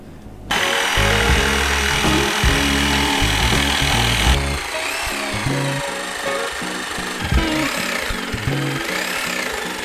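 A power saw grinds loudly through wood, cutting out a wooden mold, its harsh buzzing whine shifting in pitch as the cut progresses, close and continuous.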